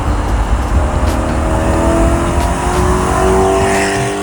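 A car with a BMW S62 engine driving by, a loud sustained engine roar with rising tones over road noise that holds steady through the clip.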